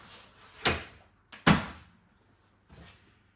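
Doors of a Perfect Draft beer machine shut after a keg is loaded, giving two sharp close thuds, the second louder, with a softer knock following, near and with no talk.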